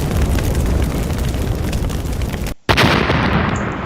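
A powerful firework bomb explosion roars loudly and continuously close by, broken by a brief cutout before the blast noise resumes.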